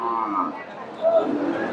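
A Friesian dairy cow lows at a busy cattle market in Bogura, giving a short, close moo over the murmur of market voices.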